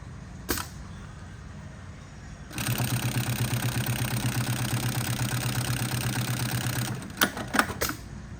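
A Highlead GC 24608 industrial sewing machine runs a steady burst of rapid stitching for about four seconds, a dense mechanical chatter, bracketed by a few sharp clicks and clunks of handling before and after.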